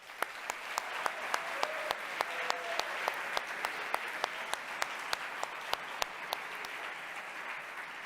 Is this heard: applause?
yes